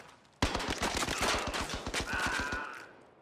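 Rapid automatic gunfire from the VR shooter game Zero Caliber erupts abruptly and continues as a fast, evenly spaced burst of loud close shots for about two seconds, then trails off into a ringing tail.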